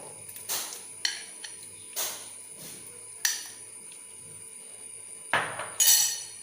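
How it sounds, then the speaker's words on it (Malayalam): Mango pieces drop into a mixer jar in a home kitchen while a mango milkshake is made. Several separate thuds and clinks land at irregular intervals over a quiet background. "ഞാൻ മിക്സിയിലേക്ക് മാംഗോ ഇട്ട് കൊടുക്കുകയാണ്."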